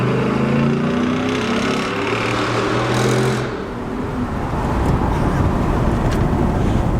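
A car with a cold air intake rides by an underpass and takes a quick throttle blip. A steady low engine drone and road and wind rumble carry on throughout, with a brief rise and dip in the engine note partway through.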